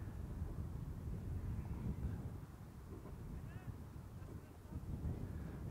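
Strong wind of 6 to 8 meters per second, gusting higher, blowing across a model glider competition field at Brüggen-Schwalmtal, a loud continuous roar buffeting the microphone with low rumbling gusts.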